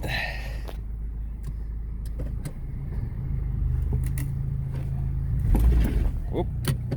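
A running car engine idles with a low steady rumble while its transmission is bump-tested forward and backward, bringing several clunks and a swelling engine surge, with brief voices in the background.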